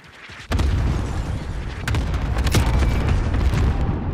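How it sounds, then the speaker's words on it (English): Cluster strike blasts in a Call of Duty match, a dense rolling barrage of loud booms with sharp cracks piling up after a sudden onset, continuous and close with no speech over it. "Enemy cluster strike."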